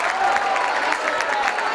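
At a youth basketball final, the crowd applauds and encourages an injured Sancat Firenze player, number 41, with even, continuous clapping across the gym under faint background voices.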